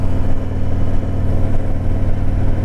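A motorcycle engine on a back-road ride on a sunny day, a steady mid-pitched drone with slight throttle swells, loud and close throughout, with no voices.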